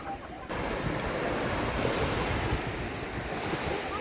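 Steady roar of surf breaking on a white sand beach in the Philippines, with wind buffeting the microphone throughout; no voices.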